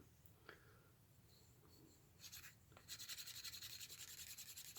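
A solid wood slicker rubs along a leather edge in faint, close strokes, the friction building into a rapid, steady back-and-forth rasp toward the end, with no talk.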